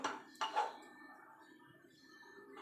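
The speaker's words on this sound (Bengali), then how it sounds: "এবার একটা কড়াই বসিয়ে দেবো" A metal wok set down on a gas stove while cooking a spicy khoira fish curry gives a couple of close, quiet metallic clanks early on, then faint kitchen hum.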